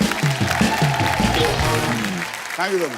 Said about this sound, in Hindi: यो जोरदार तालियां हो जाए दलेर पाजी के लिए।